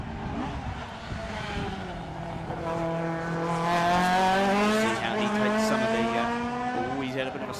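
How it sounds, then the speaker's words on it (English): A Ford Escort race car launches off the start line at a Christchurch street sprint, its engine screaming as it climbs through the revs with a rising harmonic whine, loud and close, with an announcer talking over it. "The Escort screams off the line and into Evo Parts turn number 1."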